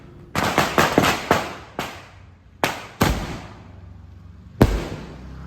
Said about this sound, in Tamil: நம்ம பக்கத்து வீட்லேயும் ஸ்கை ஷாட்லாம் பயங்கரமாக கொளுத்துறாங்க கைஸ்